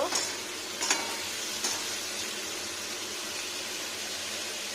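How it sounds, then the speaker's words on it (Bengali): Boiled potatoes tumbled into a frying pan for an egg and cauliflower roast, with a steady sizzle of hot oil and a few soft scraping stirs near the start, no talking. "এবার দিয়ে নেবো আলু, যে বয়েল আলুগুলো করেছিলাম সেদ্ধ"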